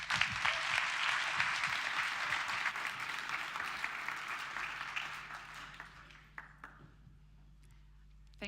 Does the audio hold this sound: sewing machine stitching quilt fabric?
no